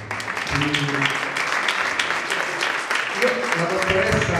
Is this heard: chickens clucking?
no